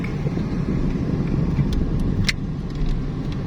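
A car passing on a road in Bongabon, Nueva Ecija, its steady engine and road noise continuous throughout with a brief rushing swell midway, heard from inside a moving vehicle with wind buffeting.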